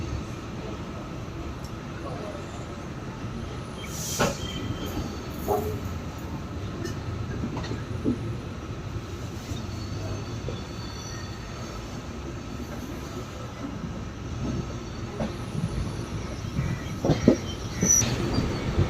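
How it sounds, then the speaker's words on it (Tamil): An express train departing Mayiladuthurai Junction rumbles steadily with faint wheel squeals and clacks along the rails, a continuous rolling noise over nearly twenty seconds. "மயிலாடுதுறை ஜங்ஷன்லேருந்து நம்மளோட ட்ரெயின் டிபார்ட் ஆகிடுச்சிங்க"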